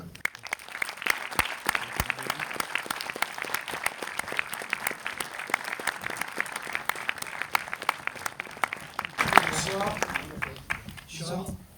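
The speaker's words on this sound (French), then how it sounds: "Je vous remercie de les applaudir." An audience at a cinema premiere applauds the film crew with dense, sustained clapping throughout, fading at the end as a voice begins speaking.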